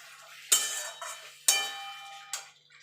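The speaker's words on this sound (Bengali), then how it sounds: "এখানে আলুটা ভেজে রেখেছিলাম, আলুটা দিয়ে দেবো। দিয়ে ভালো করে আলুর সঙ্গে মশলাটাকে মিশিয়ে নেব।" Fried potatoes being stirred into a cooked spice paste in a pan, three distinct metallic clanks and scrapes of a spoon against the pan at irregular intervals, close and fairly loud in a quiet kitchen.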